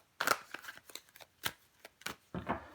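Tarot cards laid out and flipped over on a table during a reading, a series of soft, papery slaps and swishes, close and quiet, in irregular bursts.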